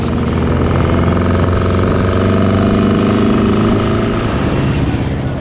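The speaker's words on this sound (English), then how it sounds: "But it's still a Beetle engine. And that's why it makes such a bloody awful racket." An air-cooled Volkswagen Beetle-based buggy engine with twin carburetors idles close by, giving a steady, loud, throbbing rumble with no breaks.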